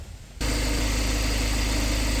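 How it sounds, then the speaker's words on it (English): A Jaguar XF car engine cranks and fires abruptly, then settles into a steady, loud, even idle with a low rumbling hum, close up under the bonnet. "So let's start the engine"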